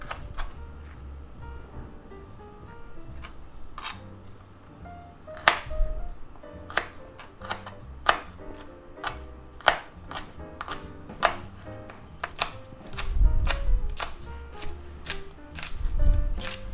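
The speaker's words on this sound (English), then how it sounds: "Now we just cut up some green onions." A knife chopping green onions on a cutting board, steady crisp taps in uneven runs, close by and alone with no talk.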